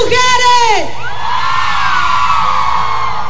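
A crowd of women at a live concert shrieking and whooping together, loud and sustained, the high cheering voices rising then trailing off into a long wavering cry.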